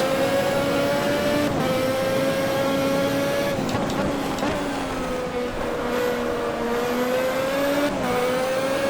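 A 1988 Formula 1 race car engine in the racing game Automobilista at the San Marino GP, droning loud and continuous at high revs with small dips and rises in pitch as it shifts.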